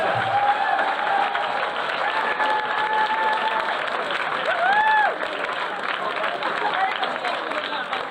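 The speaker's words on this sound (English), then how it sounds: "both teams deserve a massive round of applause" Crowd applause and clapping for both teams at the Try Tag Rugby British & Irish Cup, steady and loud, mixed with scattered cheering, background babble and a couple of whistle-like tones.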